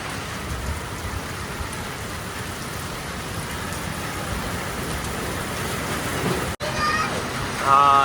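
Heavy monsoon rain falls steadily during a thunderstorm with strong wind, a dense loud wash of drops that never lets up, with a brief dropout and a faint voice-like tone near the end.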